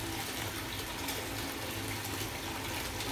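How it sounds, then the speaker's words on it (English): Water runs steadily from a tap into a bath for a bath bomb, a constant close gushing rush with no talking. "my water is running"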